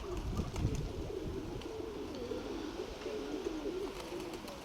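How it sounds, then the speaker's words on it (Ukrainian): A domestic pigeon coos softly in a loft, a low repeated warbling call running steadily over faint background hum. "Голубка Дмитровича приглядається."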